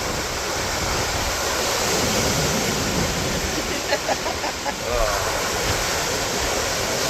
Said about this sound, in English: Look at these crazy waves coming up.